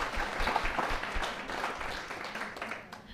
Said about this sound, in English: Please give them another warm